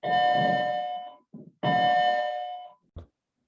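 A doorbell chimes twice at close range, each a ringing electronic tone that decays over about a second, separated by a short pause and followed by a brief click.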